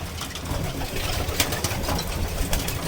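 Racing pigeons coo softly in a loft while feeding at night, low throaty calls repeating over a quiet background with occasional pecking sounds.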